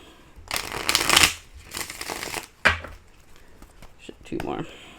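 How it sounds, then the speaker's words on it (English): A deck of cards is riffled and shuffled several times in quick bursts, crisp fluttering rattles close by, separated by brief pauses. "Let me give this one more shuffle here."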